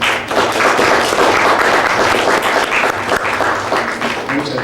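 Loud, close applause from an audience at a university conference, dense clapping that swells and then eases slightly, with faint voices beneath.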